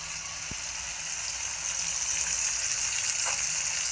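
Ground mint masala paste frying in oil for pudina bath, a steady soft sizzle and crackle throughout, fairly close, with a single sharp tap near the start.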